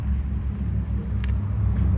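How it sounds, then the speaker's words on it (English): A deep, steady engine rumble drones loudly at close range, low and heavy like a truck idling or rolling past. "I could hear that truck before I saw it."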